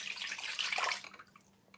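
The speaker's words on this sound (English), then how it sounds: "Put a sieve over your second bowl that you brought and pour your paper mush through the sieve." Wet paper mush is poured through a sieve into a bowl; a steady, splashy rush of water and pulp runs for about a second, close and fairly loud, then trails off into a few faint drips.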